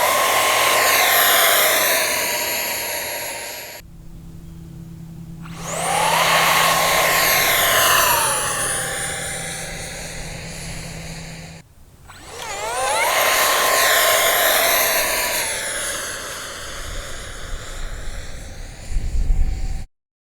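Twin 40mm electric ducted fans on an XFly F-18 Hornet model jet scream during two launches in a row. Each loud, high whine climbs steeply in pitch, sweeps and fades as the jet flies off, then stops briefly before the next launch. No talking.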